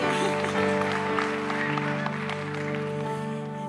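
Applause rises from a crowd at a gathering honoring blind twins and their mom, a dense steady wash of clapping layered over sustained musical tones, loud and continuous throughout.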